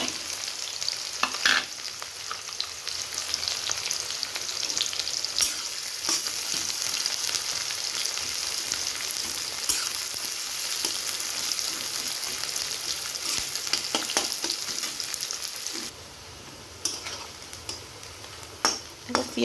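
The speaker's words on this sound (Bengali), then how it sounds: "তেলটা গরম হয়ে গেছে, কেটে রাখা লঙ্কা পেঁয়াজ দিয়ে দিব।" Chopped green chillies and onions frying in hot oil in a pan, a steady bright sizzle with occasional scrapes and clicks of a stirring spoon, easing off near the end.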